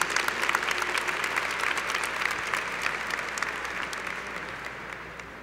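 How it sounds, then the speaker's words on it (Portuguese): Church congregation applauding after a Gospel reading, steady dense clapping that holds for about five seconds and slowly tapers, no voices over it. "Vamos aplaudir esse texto da palavra de Deus,"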